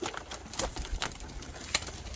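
A Lahore pigeon coos softly in a few short, spaced calls over a faint background hum, with brief louder accents and no talking.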